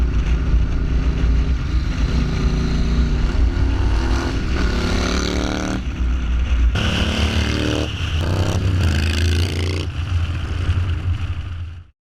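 A 1982 Yamaha Virago 920 V-twin motorcycle, built as a cafe racer, runs loud and close with a deep, steady engine rumble that holds throughout before cutting off abruptly at the end.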